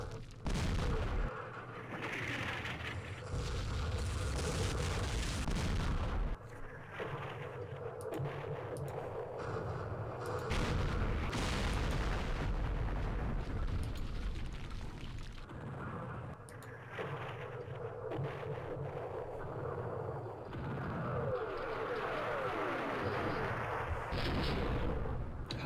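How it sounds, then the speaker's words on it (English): Artillery barrages rumble through the Battle of Dak To in the wargame Campaign Series Vietnam: continuous heavy booming and rolling thunder for about 25 seconds, easing briefly and then surging again, loud and dense. "Hopefully the artillery doesn't drift."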